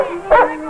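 A single short dog bark or yip, close by and clear, with a faint steady hum underneath.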